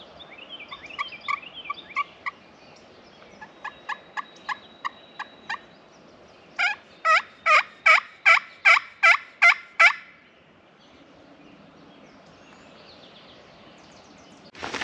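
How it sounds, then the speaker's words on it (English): A wild eastern turkey gobbles from far off in a Maryland woodland bottom, first as faint rolling calls and then as a clear series of about eight evenly spaced gobbles, with no talking. "get him to gobble once."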